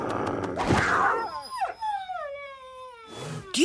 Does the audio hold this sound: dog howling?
yes